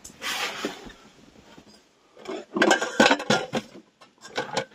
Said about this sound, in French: Récupérer la poêle. Enfin la poêle, la casserole.